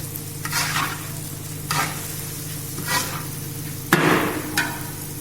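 Vermicelli roasting in a large pot for a big batch of rice pilaf, a steady sizzle broken by rhythmic scraping stirs roughly every second and a sharp metallic knock near the end, close and without talk.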